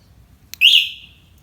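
A single loud, shrill electronic chirp from an electric motorcycle's alarm as it is locked with the remote, preceded by a brief click and fading over about half a second.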